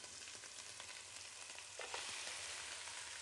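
Bone-in lamb shoulder sizzles steadily in a pan with onions, garlic and ginger, a dense, even crackle that swells slightly partway through, with faint stirring scrapes and no talk.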